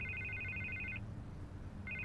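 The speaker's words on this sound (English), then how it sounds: "I can't get the phone to stop ringing" A telephone rings in the Batman: The Telltale Series video game with a clear electronic trill that runs for about a second, pauses, then starts again, with no talk over it.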